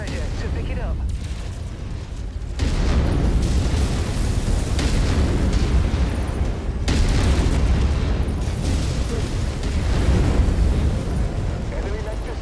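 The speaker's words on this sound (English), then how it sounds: "Enemy mech destroyed." Destruction of an enemy mech in MechWarrior 5 breaks out as a loud, sustained rumbling blast, heavy low boom and crackle rolling on continuously with a second surge partway through, while a voice talks over it.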